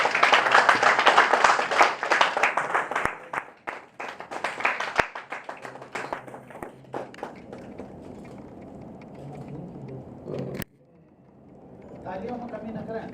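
An audience at an Uttarakhand community felicitation ceremony bursts into loud, dense applause welcoming the chief guest, which thins out after a few seconds as someone speaks over a public address system.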